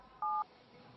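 A single short telephone dialing tone beeps once as a number is keyed on a phone, a clean steady dual-pitch note over a faint, quiet background.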